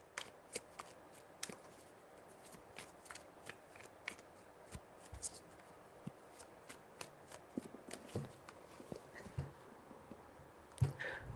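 Tarot cards are shuffled by hand in soft, irregular riffles and light taps across several seconds, quiet and close.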